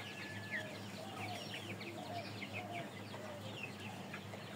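Colored meat-breed chickens fill a farm shed with constant overlapping clucks and soft cackles. A steady low fan hum runs underneath.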